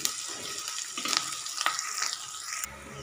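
Paneer rice ingredients with capsicum frying in a pan, a steady close sizzle with a few brief scraping stirs before the hiss drops away near the end.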